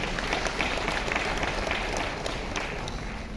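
An audience claps for a speaker in a continuous, even burst of many hands, steady and fairly loud from start to end, with no one speaking over it.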